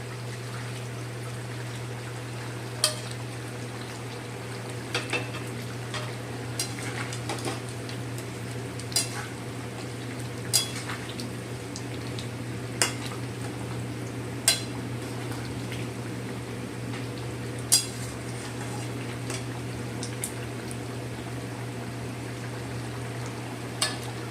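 Ridge gourd curry with fried fritters cooks in a pan, a low steady frying hiss broken by sharp, irregular clinks of a spoon stirring against the metal pan, heard close with no talking.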